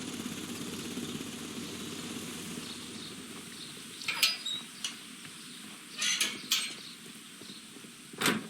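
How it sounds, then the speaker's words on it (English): Ventilation fan running in a Victorian greenhouse machinery room in a Sherlock Holmes detective game, a steady whirring drone that fades slightly, then several sharp metallic clanks and rattles break in near the end. "This ventilation fan is working."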